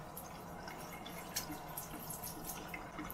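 Tap water runs and drips faintly onto a toothbrush being wetted at a sink, a soft, steady trickle with small irregular splashes and no talking.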